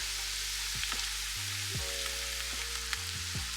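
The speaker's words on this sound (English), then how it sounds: "sprinkle the flour over the onions and stir 1 to 2 minutes until the soup thickens" Flour stirred into sizzling onions in a soup pot for creamy bacon potato soup, a steady close frying hiss with soft scraping stirs throughout, no voices.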